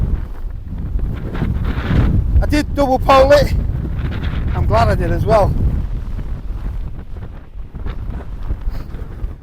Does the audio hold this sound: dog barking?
no